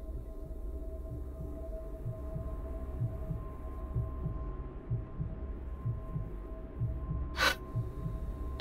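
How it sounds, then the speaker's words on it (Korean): A heartbeat in the horror game Welcome to Kowloon thumps steadily in low, soft double pulses under a constant dark hum. A brief bright burst near the end interrupts it. "두근거리는 소리도 들리고"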